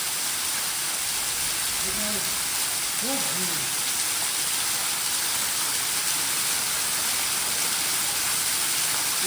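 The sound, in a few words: waterfall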